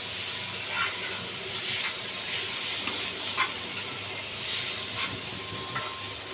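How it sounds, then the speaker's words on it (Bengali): Ramen cooking on a stove gives off a steady, broad steam hiss with faint sizzling, continuous and moderately loud, with a few soft clicks and no talking. "রামেন রান্না করে খাওয়াচ্ছে আমাদেরকে"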